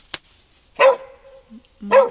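A stray dog gives two sharp, close barks about a second apart, with a brief click before them and silence around them.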